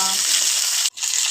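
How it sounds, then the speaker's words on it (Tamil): Mustard seeds and curry leaves sputter and hiss in hot oil, a tempering for brinjal chutney; a steady, close, bright crackle that breaks off for a split second near the end, then resumes. "எண்ணெய் ஊற்றியாச்சு. கொஞ்சம் கடுகு போட்டுடலாம். கொஞ்சம் கறிவேப்பிலை போட்டுடலாம்."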